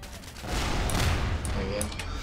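Tank cannons in Garry's Mod blasting away at a War of the Worlds tripod, a dense, continuous barrage of booming gunfire that swells and stays loud throughout.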